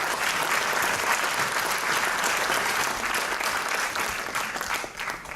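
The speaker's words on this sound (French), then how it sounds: "On m'applaudit là" An audience applauds steadily, a dense wash of many hands clapping at a constant level that tapers slightly near the end.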